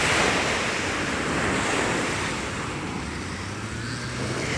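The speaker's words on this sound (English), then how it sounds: "Here's the Atlantic." Atlantic Ocean surf breaking on the beach at Myrtle Beach, a steady broad wash of waves with wind buffeting the microphone throughout, loud and close with no talking.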